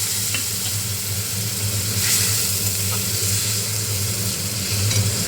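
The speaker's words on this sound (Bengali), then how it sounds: "মশলাটা যাতে পুড়ে না যায় তার জন্য একটু জল দিয়ে দিলাম।" A spice mix with turmeric powder sizzles loudly in a pan after a splash of water is added, a constant close frying hiss with occasional stirring scrapes and pops.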